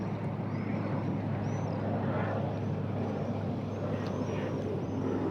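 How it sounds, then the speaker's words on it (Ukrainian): An airplane climbs after takeoff near Falconara airport by the seaside, its engine a distant, steady broad roar mixed with the low hum of surf and wind, with no talk. "літак набирає висоту"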